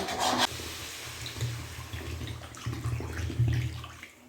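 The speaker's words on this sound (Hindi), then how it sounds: "ऐड करूँगी पानी" Water pours steadily into a cooking pot of vegetable curry in a home kitchen, a continuous low splashing rush with a brief brighter clatter at the start, heard alone without talk.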